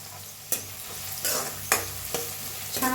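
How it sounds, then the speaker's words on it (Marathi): Curry leaves dropped into hot oil with browned onion and cumin, a soft steady sizzle broken by a few sharp stirring scrapes of a spoon in the pan. "आता ह्याच्यात टाकूया कढीपत्ता"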